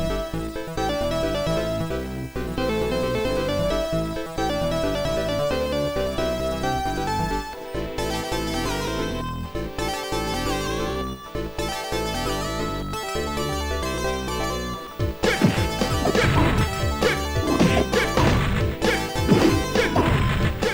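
Synthesized Sega 32X and Mega Drive game music plays with a bouncy melody and punchy percussion, then shifts to a denser, crashing section of hits and effects near the end.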